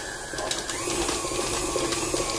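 An electric stand mixer running on a kitchen counter while making a pumpkin spiced latte cake, a close, steady mechanical whirring hum with a faint rattly texture and no talking.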